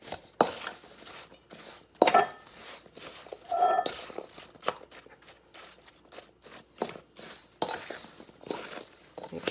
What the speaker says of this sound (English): we're just going to mix these until all the apple pieces are covered with the sugar mixture